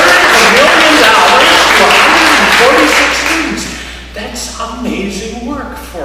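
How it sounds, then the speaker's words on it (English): Audience applause at the 2019 Hawkinson Foundation awards ceremony, a full, loud burst of clapping for about three seconds that then thins and fades as a voice begins speaking over it. "You mean you aren't going to applaud at that?"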